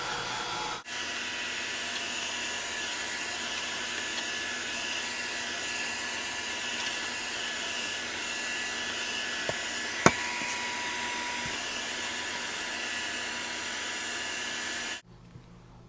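A heat tool blows a steady, close, whooshing roar while drying a mixture of spun sugar and dried marigold, running unbroken for about fourteen seconds before cutting off, without voices.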